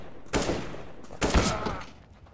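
Gunfire in Counter-Strike: Global Offensive, two sharp bursts of rapid shots about a second apart, loud and close, each trailing off into echoing reverb.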